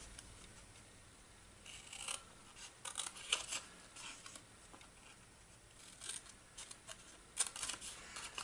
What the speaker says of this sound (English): we are going to cut up each of these score lines to the second horizontal score line